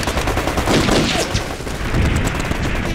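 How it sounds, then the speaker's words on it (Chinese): A battle scene in a Chinese war drama carries dense, chaotic gunfire: overlapping rifle and machine-gun bursts crackle loudly and continuously, with some distant booms and a few brief shouts mixed in. "枪声乱着呢"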